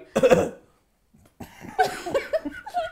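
A person coughs harshly once, then after a short silence breaks into a rapid string of coughs, close and clear.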